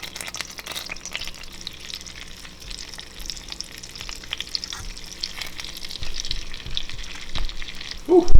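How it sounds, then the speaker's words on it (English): Snakehead nuggets for a spicy dish drop into a pan of scalding hot oil and butter, giving a steady close sizzle and crackle that swells louder near the end, with no talking. "we got our pan here filled with scalding hot oil and butter mixture. We're gonna go ahead, take our snakehead here and put them in."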